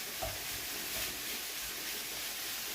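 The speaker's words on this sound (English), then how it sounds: "I'm going to brown off my mince" Beef mince browns in a hot pan, giving a steady close sizzle with brief scrapes of a spatula stirring and breaking up the meat.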